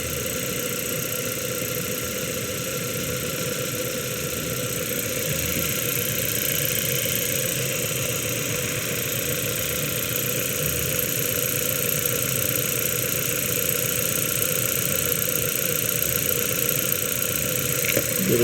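A car engine idles with a misfiring cylinder, giving a steady mid-pitched running drone with a faint irregular stumble, recorded close and without speech.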